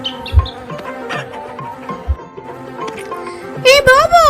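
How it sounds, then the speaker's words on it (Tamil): Buzzing of cartoon bees, a wavering drone under a child-like voice and bouncy music, with a brief low thump or two and a louder swooping tone near the end. "இந்த புறம் வருகிறீர்களா தேனீக்கள்?"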